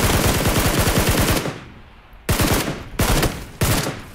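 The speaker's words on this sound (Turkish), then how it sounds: "Kanka arkamdan sıkıyor." Loud bursts of automatic gunfire in the battle royale game PUBG Lite, a long rapid volley followed by a pause and then three short sharp bursts, with no talk over them.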